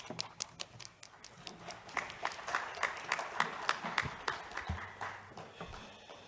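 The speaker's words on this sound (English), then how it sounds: "a round of applause" Audience applause in a conference hall after a session chair hands the floor to a speaker on media and information literacy, steady clapping that builds and holds, dense and fairly close, with no voices over it.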